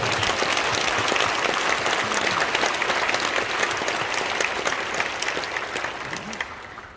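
A church congregation gives steady, full applause for a pastor at a memorial service honoring war veterans, sustained crowd clapping that fades slightly toward the end.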